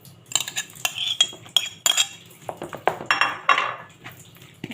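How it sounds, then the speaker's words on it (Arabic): Onion, carrot, herb and spice mixture being stirred for mackerel, with a spoon scraping and knocking against a bowl or pan in quick irregular strokes, close by with no talk. "هقلب الخلطه دي كلها كده مع بعض."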